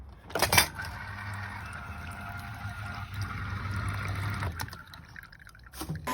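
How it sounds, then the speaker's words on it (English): Lemon juice from two lemons gradually poured into a lemon pudding batter of flour and full cream milk, a soft close trickle running for several seconds with a light clink near the start and the end. "gradually add the lemon juice"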